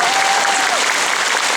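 Concert audience clapping at a hall concert in Taipei, a dense steady burst of applause lasting under two seconds, loud and close, with a brief whistle-like tone at the start.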